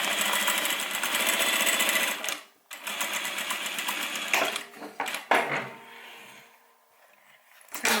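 A sewing machine runs a seam with a 1/4 inch allowance and back stitching on a homemade airliner cabin bag, whirring loudly and near, then pausing and starting again in shorter bursts.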